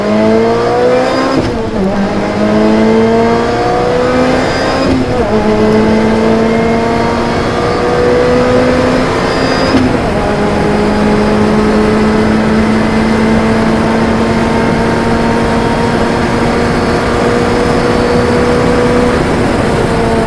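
Lotus Exige S pulling away from a light launch at about 3,000 rpm, its engine note climbing loudly through three gear changes, each marked by a brief dip before the pitch rises again, ending in a long sustained pull.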